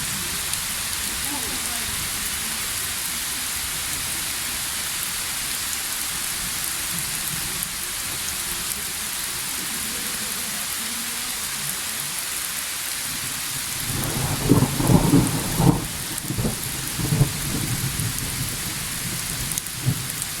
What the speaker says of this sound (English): the whole nature being under the siege of the rain and the storm, The forest under the siege of rain.